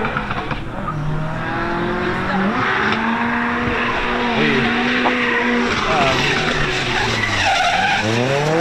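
Drift cars battling downhill at the Nürburgring Driftcup, engines screaming and tyres squealing continuously in long sliding wails, loud, with a commentator talking over them.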